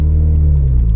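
A car engine holds a steady, loud low rumble as the driver accelerates evenly during a hill start on an incline, the tone easing slightly lower toward the end with no talk.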